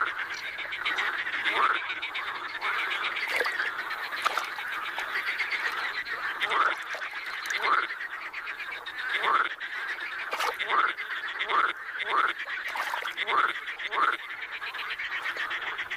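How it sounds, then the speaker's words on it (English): A dense chorus of marsh frogs in the Caspian region croaking continuously during mating season, with repeated rising calls standing out every second or so over a steady buzzing backdrop. "the croaking of these amorous amphibians reaches a climax"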